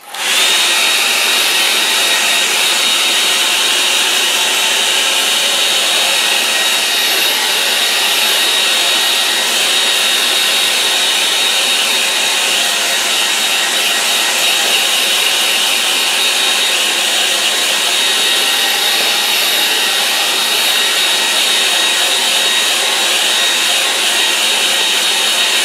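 A hair dryer blows steadily over a watercolour painting for a long stretch, a loud, unbroken high whirring hiss with no talking.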